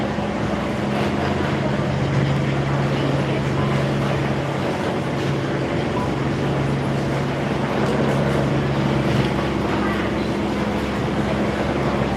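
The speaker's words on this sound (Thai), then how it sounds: "มีแต่เสียงเรือ" Continuous low rumbling drone of boat engines on a river at Wang Lang pier at night, steady and loud throughout, with a faint hum running underneath.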